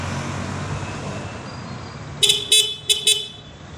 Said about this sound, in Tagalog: Yung pindot yung stock ng busina.